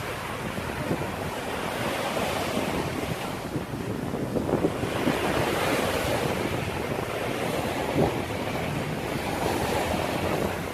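Ocean surf rolls onto the beach at Jomtien, with a continuous wash of breaking waves and heavy wind buffeting the microphone, steady and fairly close with no voices.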